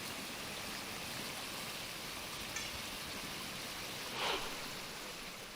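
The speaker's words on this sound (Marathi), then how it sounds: "वाऱ्यासह पाऊस पडतोय आणि त्यामुळे मोठ्या प्रमाणात पाण्याचा प्रवाह आपल्याला पाहायला मिळतोय" Heavy wind-driven rain pours down beside the swelling Jagbudi river in Khed, Ratnagiri, making a steady, dense wash of falling and rushing water with no voices.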